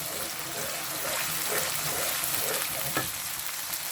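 Food fries in a pan with a continuous sizzling hiss, broken by soft scraping and shuffling as it is stirred, close up and fairly quiet, without speech.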